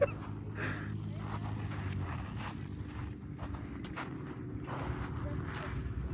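A small engine taken from a lawnmower drives a little vehicle in Egypt, giving a steady, low, buzzing hum up close, with people talking over it.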